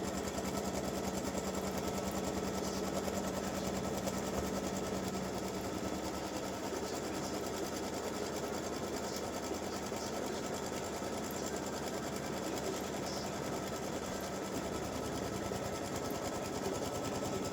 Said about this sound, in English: color stop number 1 is going to stitch a placement stitch for your batting